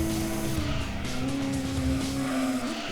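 Race cars in Gran Turismo 2 racing game, a loud continuous engine drone with a shifting high pitch and tire noise, steady throughout with no talk.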